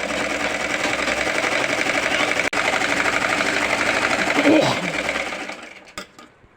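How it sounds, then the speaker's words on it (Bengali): A sewing machine runs steadily and close by, stitching scraps of fabric together for children's clothing, then slows and stops near the end. "পাশে দ্বিতীয়টাও জোড়া দিয়ে নিলাম"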